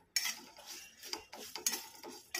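A metal spatula clinks and scrapes in a kadhai while green chillies, garlic and cumin seeds are dry-roasted, with rhythmic stirring strokes and faint crackling at moderate volume and no talk.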